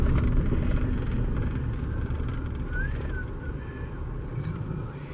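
Road traffic passing near a railway hump yard in Pasco, Washington: a low rumbling vehicle drone that swells and fades, with a faint tonal whine in the middle and no talking.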